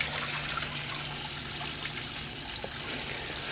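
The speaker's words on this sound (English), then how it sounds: "the water actually fills up in the top and pours out down like this" Water trickles and pours out of a garden watering well, a quiet, steady running flow with a low hum beneath it and no talking.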